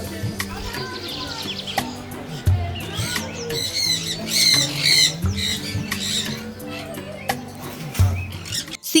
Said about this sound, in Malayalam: സിംഗനൂർ വിഭാഗത്തിൽപ്പെട്ട ഒരു കൂട്ടം കിളികളാണ് കേട്ടോ